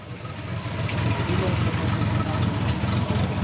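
A Suzuki 12-valve car engine idles with a steady low rumble, while someone talks over it nearby.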